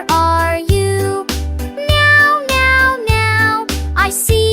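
A sung, cat-like meow sounds inside a children's farm-animal nursery rhyme, repeated in several bright, rhythmic notes over a steady musical beat.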